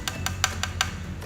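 Light taps on the large carbon frame of a Hongfu FM008 SL road bike, five or six quick, even knocks about a fifth of a second apart, close and fairly soft.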